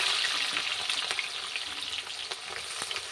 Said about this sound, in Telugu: ఆనియన్ వేసుకున్న తర్వాత ఎర్రగా ఫ్రై అయ్యే వరకు వెయిట్ చేయాలి